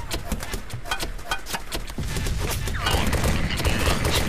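Dense gunfire rattles in a realistic war video game, rapid overlapping shots and bursts crackling continuously with distant booms as the battle intensity builds.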